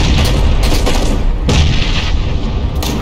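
Gunfire in PUBG, heard as loud, close booming shots in quick irregular bursts with long reverberant tails.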